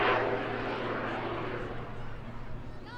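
An aerobatic plane powered by a Lycoming 540 engine flies past at an airshow, giving a steady, fairly loud engine drone that fades slightly over a few seconds.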